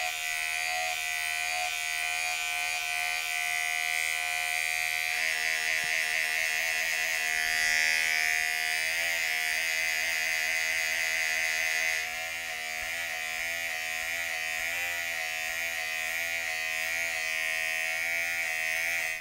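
Electric hair clippers fitted with a half guard buzz steadily close up while cutting hair, with the pitch wavering slightly as the blade moves through it, and no speech.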